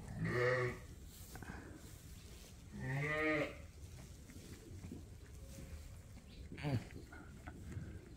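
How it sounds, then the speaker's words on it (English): Lambs and ewes bleat on a sheep farm at lambing time, a close call up front, another around three seconds, and a short cry near the end, over a quiet barn background. "Another lamb?"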